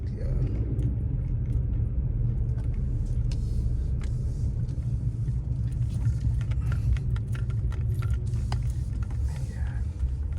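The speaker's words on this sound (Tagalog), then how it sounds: "Daming sasakyan." Steady road traffic with cars passing close by, a continuous loud low rumble of engines and tires that holds without a break, with no clear speech over it.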